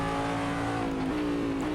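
A Corvette DP race car engine in Assetto Corsa, heard from inside the cockpit at Silverstone, whines loudly and steadily with quick pitch steps as gears change, with no talk over it.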